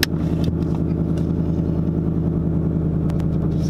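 A 2018 Ford Mustang GT V8 rumbles steadily from inside the cabin while being driven, a deep, even engine drone with low harmonics holding throughout.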